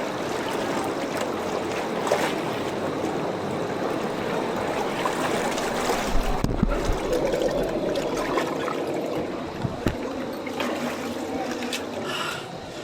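A fast-flowing stream rushing and splashing continuously at close range near rock steps, a loud steady wash of water with occasional heavier splashes.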